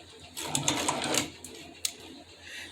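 Leather sewing machine running in short bursts of rapid mechanical stitching clatter, stopping and starting as it gets stuck, close and moderately loud with no talking.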